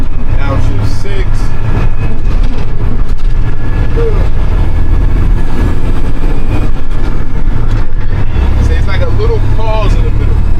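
A Western Star truck engine revs loud and close through downshifts, its heavy steady drone rising and dipping, with a faint voice underneath.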